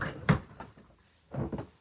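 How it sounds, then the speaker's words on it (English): A drawer being slid open or shut indoors, heard as a few soft knocks and scrapes with a louder thump early on and another burst of rattling near the end, with no talking. "It has to go in my drawer."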